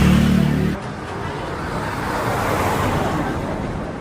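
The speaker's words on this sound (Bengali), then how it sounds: "এখানে গাড়িগুলো খুব স্পিডে যায়" Cars speed along a road in chilly Darjeeling, a loud rushing whoosh of a vehicle passing close, settling into a steady broadband roar of traffic.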